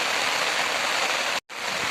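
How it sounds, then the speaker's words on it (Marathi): Steady rain pours down outdoors in a dense, even hiss, broken by one brief dropout near the end. "तिकडं पलीकडं पाऊस चालू आहे"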